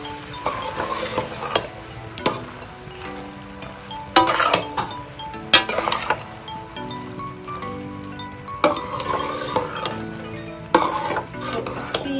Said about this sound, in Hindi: बॉईल के बाद पास्ता जो है हम इसमें अब ऐड कर देंगे।